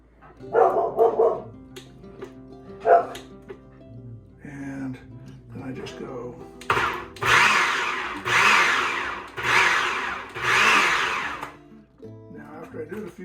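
A kitchen blender pulses in several short bursts to chop salsa ingredients. The bursts are loud, close and evenly spaced, and they follow a stretch of quieter handling and clattering noises.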